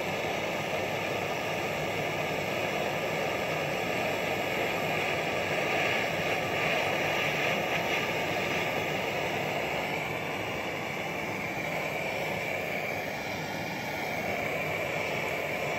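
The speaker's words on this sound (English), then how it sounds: "My trusty propane torch, jeweler's pliers." Propane torch flame roaring steadily and loudly, heating a jaw harp trigger held in jeweler's pliers, a continuous broadband rush with no talk.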